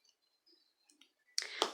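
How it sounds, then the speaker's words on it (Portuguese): Scissors snip through sewing thread with two quick, crisp clicks close together after a near-silent pause. "Cortei aqui o fio."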